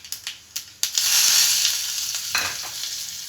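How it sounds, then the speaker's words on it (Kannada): Mustard seeds, cumin, chillies and curry leaves tip into hot oil for a sambar tempering: a few quick clattering drops, then a loud, steady, close sizzle that gradually eases. "ಈಗ ಇದಕ್ಕೆ ಒಂದು ಸ್ವಲ್ಪ ಸಾಸಿವೆ ಹಾಕ್ತಾಯಿದ್ದೀನಿ, ಜೀರಿಗೆ, ಮೆಣಸಿನ್ಕಾಯಿ, ಕರಿಬೇವು ಸೊಪ್ಪು."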